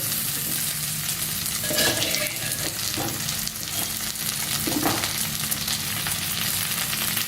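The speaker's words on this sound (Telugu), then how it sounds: "ఉల్లిపాయ ముక్కలతో పాటు ఆ వెల్లుల్లి కొద్దిగా ఫ్రై చేసుకొని" Onion pieces, garlic and boiled raw banana chunks fry in a pan with a constant close sizzle, and occasional stirring scrapes cut through the steady hiss, with no talking.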